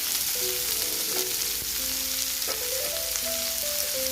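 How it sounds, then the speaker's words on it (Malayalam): Ginger and onion fry in a pan with a steady, even sizzle, joined now and then by soft stirring scrapes and faint tonal kitchen hum in the background. "അത് നമുക്ക് ഈ സവാളയ്ക്ക് ചേർത്ത് കൊടുക്കാം നന്നായിട്ട് ഇളക്കി കൊടുക്കാം"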